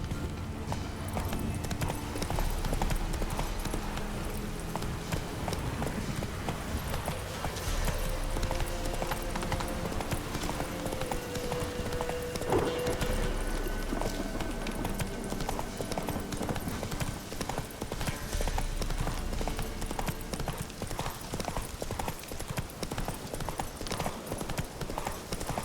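Hooves of the horse Roach pound in a steady, rapid galloping rhythm within The Witcher 3 game world, loud and continuous throughout, with brief faint game sounds underneath.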